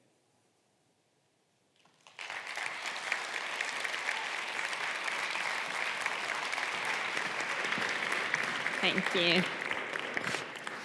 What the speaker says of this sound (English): Another round of applause for Steffen, please